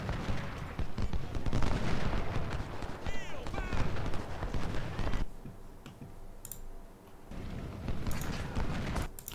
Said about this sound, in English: You turn around and fire at Chamberlain